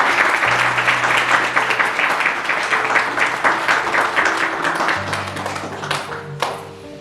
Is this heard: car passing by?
no